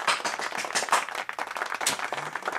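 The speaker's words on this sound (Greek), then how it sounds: "χειροκρότημα!" Applause from a crowd, a steady dense patter of clapping hands that continues for the whole stretch at moderate level, with no talk over it.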